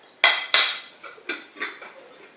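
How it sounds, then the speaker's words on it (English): Ceramic bowls clatter and clink on a counter as a potato is covered with a second bowl, two sharp knocks followed by a few lighter rattling taps, close up with no speech. "Potato we put in a bowl, cover it up with another bowl."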